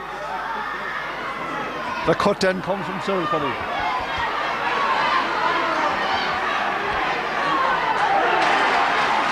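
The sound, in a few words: cheering crowd of Camross supporters at hurling match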